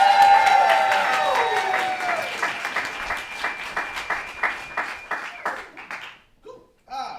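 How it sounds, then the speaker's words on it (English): A live improv audience claps for the host, dense applause at first that thins into scattered, rhythmic claps before fading out. "Can we give a round of applause for our host, Jay?"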